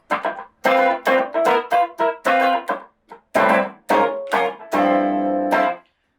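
Electric guitar chords played in short choppy bursts with a syncopated rhythm, ending on a longer ringing chord, loud and close.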